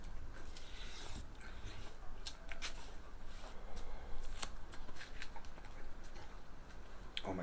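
A knife cuts through a pie iron apple pie cooked over an open fire, making faint crisp crunching and scraping ticks of crust being sliced, close and quiet.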